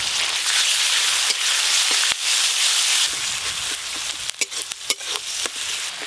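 Onion paste, ginger-garlic paste and turmeric fry in a pan with a loud, steady sizzle, broken by brief scraping stirs toward the end; no one speaks.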